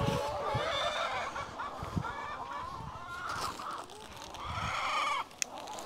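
Chickens cluck and squawk in a busy, close flock while being fed by hand, a continuous jumble of calls with some handling noise.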